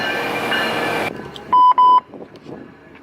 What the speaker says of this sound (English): And the train is gone.